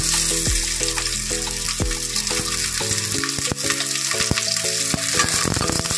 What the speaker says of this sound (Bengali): আমি এতে ওই তেলেই আমি কারি পাতার ফোড়ন দিলাম, আর একটা পেঁয়াজ আমি কুচিয়ে নিয়েছি, সেটা আমি ফোড়ন দিলাম।